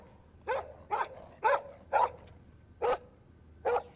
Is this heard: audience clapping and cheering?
no